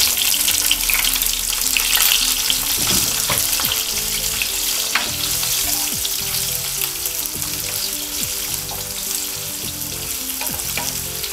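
Garlic fries in a hot pan with a loud, continuous sizzle and crackle, broken by occasional stirring scrapes and clicks, close up with no voices.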